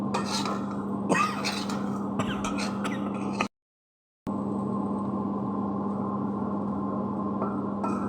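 Raw banana fry with chilli powder is stirred and turned in a pan over a low flame, a spatula scraping and rasping against the metal in repeated strokes over a steady hum, with a brief silent gap midway.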